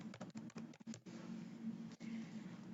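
Rapid clicks of fingers typing on a computer keyboard while a spreadsheet formula is entered, a burst of close keystrokes followed by a quieter steady hum and one more isolated tap.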